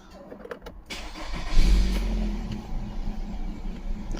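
A 2019 Nissan Pathfinder 3.5L engine runs at a rough, loping idle: a low engine rumble that swells after a starting burst, then rises and dips unevenly, close and alone with no talk.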